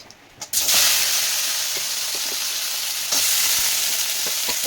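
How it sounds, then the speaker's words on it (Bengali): Cumin seeds, dried chili, cinnamon and onion hit hot oil in a pan, giving a loud, steady sizzle that flares at the first drop and intensifies again midway, with faint stirring clicks. "আমি ফোড়ন দিয়ে দিলাম, ফোড়নে দিলাম সাদা জিরা, শুকনো লঙ্কা আর হচ্ছে দারচিনি আর গোলাপের পাপড়ি দিয়ে সম্বারা দেবো পেঁয়াজ"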